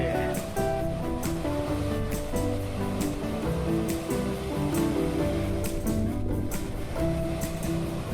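Water rushes over a weir on the River Trent as a continuous, dense roar and wash, heard from a short distance, steady in level, with a low engine-like hum beneath it.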